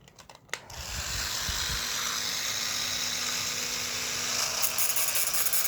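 A small electric motor drives the arms of a Milkyway Robot Fighter toy, starting after a few clicks and running as a steady high whine and buzz for several seconds, fairly close.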